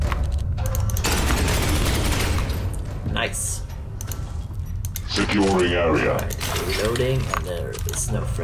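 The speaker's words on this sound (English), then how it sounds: "But the assault cannon can still kill a lot of them." An assault cannon in Space Hulk: Ascension fires rapid bursts with clattering mechanical rattles, mixed with game effects, while a person talks over parts of it.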